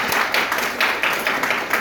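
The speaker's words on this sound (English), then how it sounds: "Clap for yourselves." Audience clapping at a capacity building seminar for high school staff and teachers, a dense burst of many hands applauding steadily and fairly close for under two seconds.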